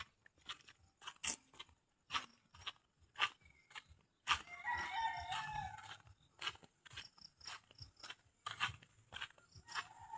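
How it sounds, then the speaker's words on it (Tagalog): Many short bird calls and chirps scattered throughout, some near and loud, others fainter, with a denser burst of chattering calls in the middle. "Daming ibon."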